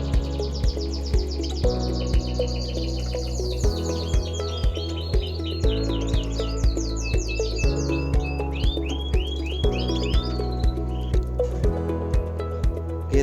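Pet canary chirping and trilling in rapid bright runs over a loud, regular rhythmic music bed, the song rising and falling in quick warbled phrases.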